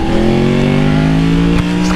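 A loud, worn-out motorcycle engine idles and revs steadily with a strong droning hum, close by and continuous, with a brief dip near the end.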